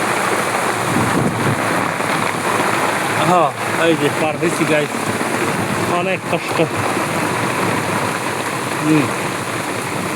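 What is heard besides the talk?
heavy rain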